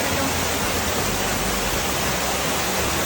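Cascading water from the Damajagua waterfalls in Puerto Plata makes a dense, constant roar, loud and close, with no breaks or voices.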